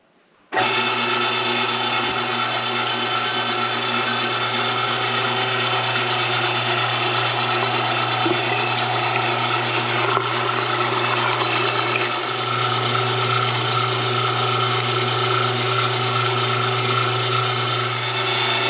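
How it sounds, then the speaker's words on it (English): An electric meat grinder runs steadily while grinding venison for burgers, a loud continuous motor whine with a grinding mechanical rattle that starts abruptly and holds nearly unchanged, no talking. "This grinder's just a beast."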